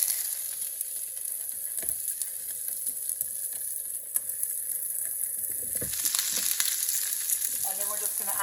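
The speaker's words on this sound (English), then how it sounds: "I'm going to go ahead and add my onion, poblano, and then actually half of the tomatoes you needed to save to add to the" Onion, poblano and tomatoes sizzle steadily in a skillet, a continuous loud frying hiss with occasional stirring clatters and a brief scrape near the end.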